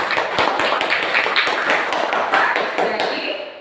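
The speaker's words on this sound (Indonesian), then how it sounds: "Ya, tepuk tangan untuk Feni." Classroom applause from students, a dense run of many claps filling the room at steady loudness before trailing off at the end, with no talking over it.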